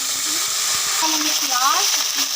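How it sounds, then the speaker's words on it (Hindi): Ginger garlic paste frying in hot oil, a constant close sizzle with light stirring scrapes and a faint voice-like tone in the background. "अब इसमें डालेंगे हम अदरक लहसुन का पेस्ट"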